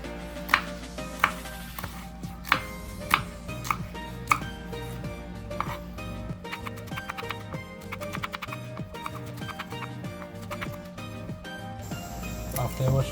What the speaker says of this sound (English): For the pimentos, what we're doing is just slicing it.